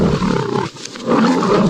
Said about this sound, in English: there are just little momentary scenes where you see the lion growling and roaring